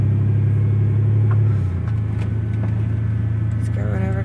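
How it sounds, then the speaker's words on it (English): A truck rumbles past at close range, its heavy engine drone shifting in pitch as it goes by, loud and steady over outdoor background noise near a shopping plaza. "Here comes a truck."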